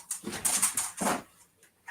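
A dog whimpers indoors in a room, two close, high whiny cries in quick succession followed by fainter trailing whines.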